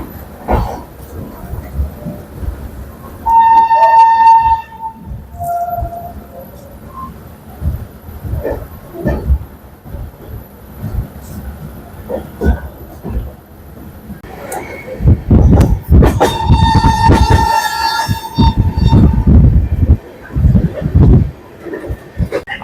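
An Amrit Bharat Express train sounds its horn in two loud, sustained blasts, one early and a longer one later, over the steady rumble and rattle of the moving train.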